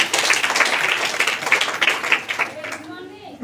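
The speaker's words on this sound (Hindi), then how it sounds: "दीदी के नाम पे एक जबरदस्त ताली।" An audience at a motivational meeting breaks into dense, energetic clapping that carries on for a few seconds before thinning out, with a voice speaking faintly beneath it.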